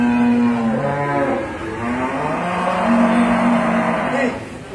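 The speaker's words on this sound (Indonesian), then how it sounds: "di depan saya ini ada sapi pedetan jantan yang sebelah kanan" A young male sapi pedetan bull calf lets out long, drawn-out moos, close and loud, with harmonic lowing rising and falling over several seconds.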